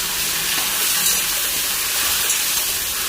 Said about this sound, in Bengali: এবার আমটা দিয়ে দেব, আটি শুধু করব। হালকা করে ভেজে নেব আমটা।